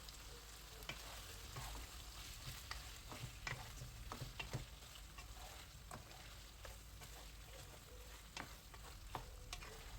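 Alexandria-style liver fries in a hot pan, giving a continuous low sizzle broken by scattered clicks and scrapes as the pieces are turned one by one.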